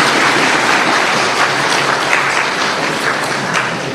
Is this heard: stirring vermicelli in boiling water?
no